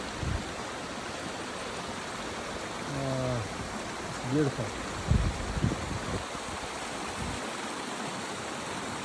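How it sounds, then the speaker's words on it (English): A small waterfall trickles steadily beside a mountain hiking trail near Mount Washington, a soft constant wash of water with a brief spoken remark over it. "here my waterfall trickle is still here"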